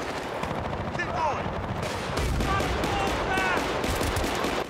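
Sustained gunfire in the Battlefield: Bad Company Crossroads mission, a dense, steady barrage of shots and explosions close by, with a voice talking over the din.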